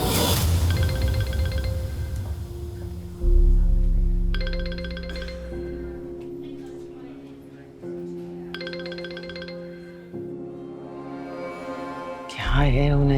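A phone rings in a repeating electronic melody, the tone pattern recurring several times, with occasional short bursts of voices over it.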